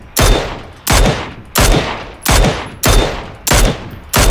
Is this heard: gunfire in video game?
yes